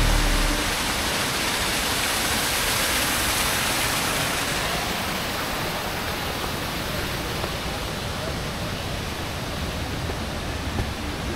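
A waterfall in northern Bali roars as a steady, dense rush of falling water, constant and broadband throughout with no pauses or voices.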